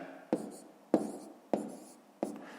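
A pen scratches out numbers on paper for a column multiplication, four short separate strokes in an even rhythm, soft and close with no talking.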